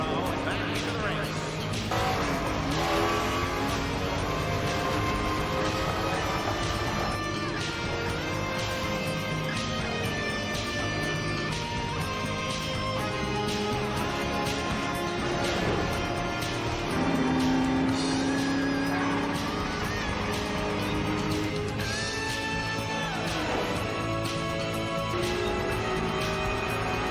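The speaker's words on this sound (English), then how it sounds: "Car 51, Thomas coming out of the pit row and back into the race." A race car pulls out of pit row and rejoins a race at speed, its engine a steady whining drone with shifting pitch under continuous music and other cars, while a voice talks over it.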